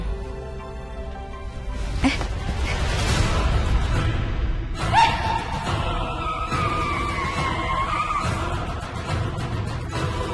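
A car brakes hard and its tires skid, a rising squeal that stretches out for several seconds over a low rumbling background, fairly faint and at moderate distance.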